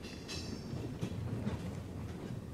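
Train carriage running on rails, a steady low rumble with irregular clicks and rattles from the wheels and coach, heard from inside, continuous and without talking.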